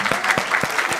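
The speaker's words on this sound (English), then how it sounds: "Let's give her a big clap" A conference audience claps for a speaker being thanked at a tax justice event, a brief burst of steady, fairly loud applause from a crowd.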